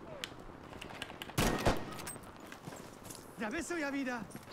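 Enemy soldiers' footsteps in the shooter game Battlefield V, a quick run of soft clip-clop steps under game ambience, interrupted by a loud burst of gunfire and followed by a voice-like tonal sound.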